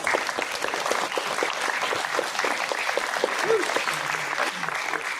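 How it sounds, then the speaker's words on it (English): Audience applause at a school Students of the Month ceremony, a dense steady round of clapping filling the room throughout, with some voices faintly mixed in. "Students, let's give those amazing people in the audience a round of applause."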